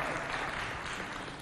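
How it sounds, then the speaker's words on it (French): An audience at a Chadian fashion show applauds, a brief dense wash of clapping that stays fairly faint and even, with no voices over it. "Applaudissez pour le grand boubou de Kamara"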